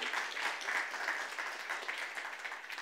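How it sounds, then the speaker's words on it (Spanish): A church congregation applauds steadily, a dense wash of clapping that stays fairly even and a little distant for a few seconds. "Un aplauso para Dios, por favor"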